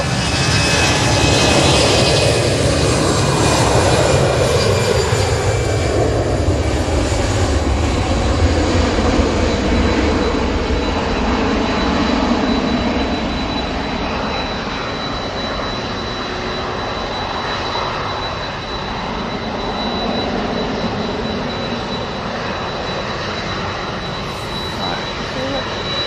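An Aer Lingus A330 from New York JFK on final approach at Manchester, a loud, broad jet roar close by that slowly eases, with a voice talking over it.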